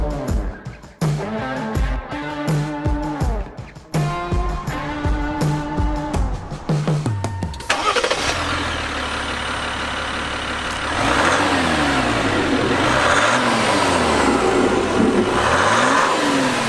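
A diesel Jeep Wrangler engine cranks and fires with choppy rhythmic bursts, then settles into a steady loud drone as it drives on a flat paved road near Zion National Park, with rising and falling revs.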